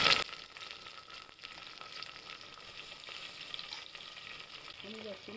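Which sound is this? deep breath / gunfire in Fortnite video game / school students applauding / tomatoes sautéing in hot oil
tomatoes sautéing in hot oil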